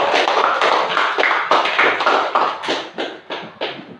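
Students in a classroom applaud together, producing a quick, evenly spaced run of close claps. The clapping loosens and fades toward the end.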